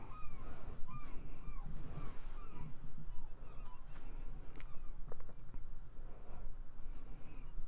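Seagulls call repeatedly in a Fishing Planet lakeside scene on the Michigan map near a lighthouse, their cries rising over a steady bed of ambient noise.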